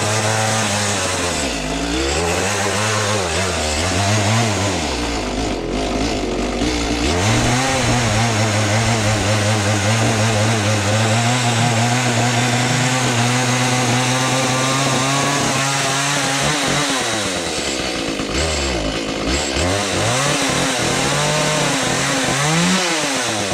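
A small engine runs loud and close after its choke is pushed in. It revs up and down unevenly at first, settles into a steady drone, then wavers again near the end, with no talk.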